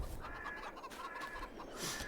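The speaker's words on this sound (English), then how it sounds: "Just checking on my chickens here." Chickens clucking in the Farming Simulator 22 video game, a steady run of hen clucks and calls that carries on for a couple of seconds without pause.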